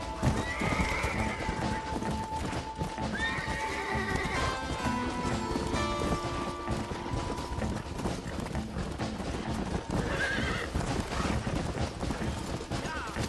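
A horse in the western video game Red Dead Redemption gallops with rhythmic clip-clop hoofbeats and gives several whinnies, over game ambience and music.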